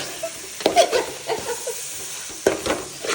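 Turmeric powder being stirred into chicken curry frying in a pan, with a close, steady sizzle broken by several scraping stirs and brief bursts of hiss, with no talking.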